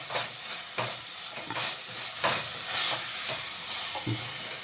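Chicken biryani masala with garam masala is sautéed in a pan, giving a soft frying sizzle under repeated scraping stirs that swell and fade in an uneven rhythm, close and moderately loud, with no talking.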